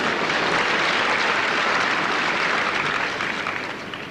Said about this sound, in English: We don't want to see applause of that sort of situation